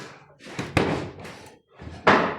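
A house door slams shut with a sharp, loud bang, surrounded by muffled rustling and a second heavy thud near the end.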